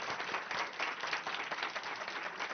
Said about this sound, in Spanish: De nuevo un aplauso para él, por favor.